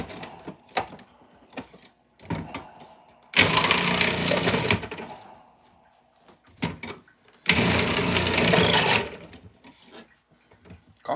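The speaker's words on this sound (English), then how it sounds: "Coffee sounds like it's almost done." A home coffee maker finishing its brew in a kitchen while breakfast is made, giving two long bursts of hissing, sputtering noise between scattered soft clicks and knocks.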